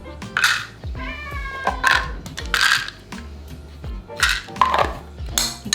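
A cat meows several times in quick succession, loud and close, alongside light clinking of dishes.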